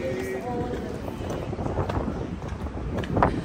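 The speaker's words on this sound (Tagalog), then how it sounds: "Ang hangin." Wind blowing outdoors, a continuous rough rumble buffeting the microphone at close range, with faint voices talking underneath.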